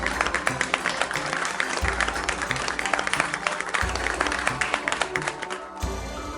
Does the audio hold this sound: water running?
no